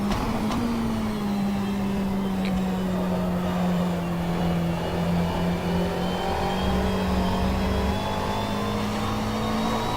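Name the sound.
race car engines in the rFactor 2 racing video game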